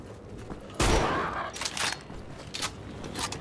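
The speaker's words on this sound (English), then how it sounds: "the zombies can actually shoot" Zombies fire guns in Wolfenstein: The Old Blood, with one loud, sharp blast followed by a few fainter, scattered shots.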